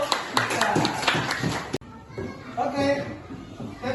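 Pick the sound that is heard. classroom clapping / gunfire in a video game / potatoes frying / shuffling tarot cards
classroom clapping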